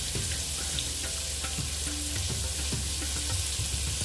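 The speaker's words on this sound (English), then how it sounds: "All right, so we're gonna let that fry up." Catfish fries in hot oil with a dense, continuous crackling sizzle that holds steady the whole time, close and fairly loud, with a few faint knocks in the background and no voices.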